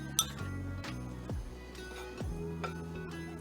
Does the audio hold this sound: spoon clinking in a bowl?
yes